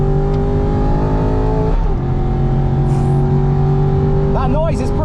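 Aston Martin V8 Vantage GT4 racing car with a naturally aspirated 4.3-litre V8 and a custom cross-pipe exhaust, loud and close on the damp winter Nordschleife, droning steadily, dipping briefly at a gear change, then rising again.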